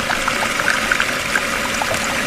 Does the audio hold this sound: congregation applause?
no